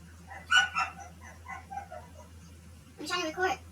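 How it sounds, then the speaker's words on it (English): A dog barks indoors in a few quick, close yips and barks, mixed with talking over a steady low hum. "Why are you barking?"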